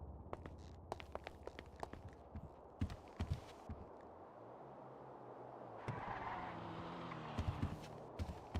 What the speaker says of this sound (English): Why do I feel like I hear other footsteps?